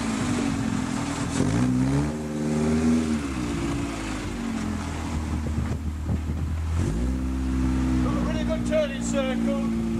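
A Robin Hood kit car on a test drive, its engine note climbing and dropping through gear changes over about ten seconds, heard from inside with a steady road rumble and a voice talking over it.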